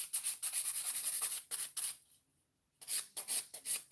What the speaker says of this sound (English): So I'm smoothing out the entire surface of the nail now